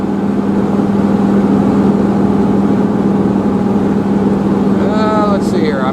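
A 1975 Cadillac Fleetwood engine holding steady at about 2,300 RPM while driving at speed, a continuous loud drone with road and wind noise, briefly overlapped near the end by a voice or radio sound.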